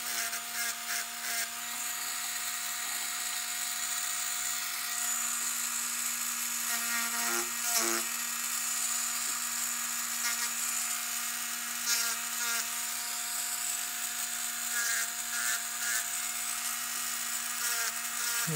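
Small rotary grinder removing a burr from a metal fork being shaped into a cat figure, a steady high-pitched whine with a constant hum, broken by short bursts of harsher grinding where the tool bites the metal.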